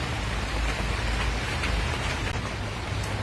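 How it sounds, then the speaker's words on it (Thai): Heavy rain pours steadily as a dark storm sets in, a dense, continuous hiss of drops drumming on surfaces, loud and close with no break or voices. "ฝนยิงตกแรงกว่าเก่าค่ะพี่น้องดูมืดมาเบิดเนาะ"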